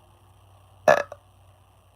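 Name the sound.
burp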